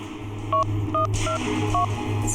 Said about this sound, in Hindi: तू ऐसा कर, उस नंबर पे डायल कर।